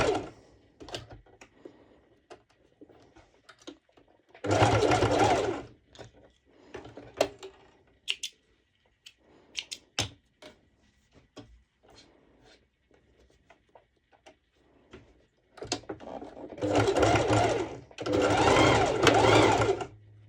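A sewing machine stitches a twisted top with mesh detail, working through thicker layers in a short run and then two longer steady bursts, with quiet handling between them.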